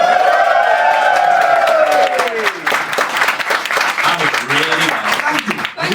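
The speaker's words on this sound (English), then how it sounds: "expect a round of applause this time" A live pub audience in Nottingham claps and whoops for several seconds, with a voice rising over the applause near the start and talk continuing as the clapping settles.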